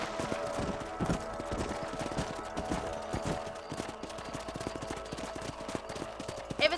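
Horse hooves clip-clopping at a steady walking rhythm in the western game Red Dead Redemption, moderately near over a low ambient bed, with a short whinny-like sound near the end.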